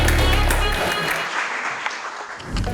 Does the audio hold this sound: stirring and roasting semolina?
no